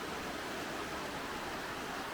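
Water pours steadily at the bottom of a fish pass staircase where it empties into a river, a constant broadband rush heard close and alone with no talk.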